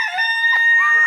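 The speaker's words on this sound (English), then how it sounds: "a cockerel owner has agreed to remove her 7 cockerels" A single cockerel crows once, a loud, close, harmonic cock-a-doodle-doo call with no other sound around it.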